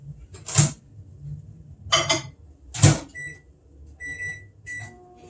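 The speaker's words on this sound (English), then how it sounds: "I'm going to stick this in the microwave for a minute" Sharp clunks of a microwave door and handling are followed by several short electronic beeps from its keypad, heard alone in a quiet kitchen.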